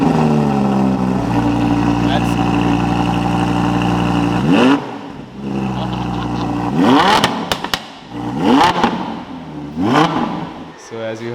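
A car engine revs hard through an Akrapovic aftermarket exhaust, loud and close, with rising sweeps, sharp blips and crackles after a sustained drone, at a luxury car rental in Dubai.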